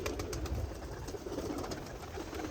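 A top-quality female pigeon perched up on a net coos in a low, throaty, continuous murmur, close and fairly steady, with no one speaking.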